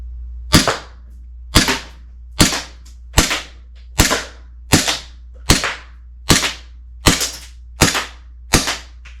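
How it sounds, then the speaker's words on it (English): An RWA Agency Arms EXA airsoft pistol fires about eleven sharp, loud cracks at a steady pace of roughly one per second, each snap ringing briefly against a constant low hum. "we're just going to continue firing off the rest of what's inside this magazine"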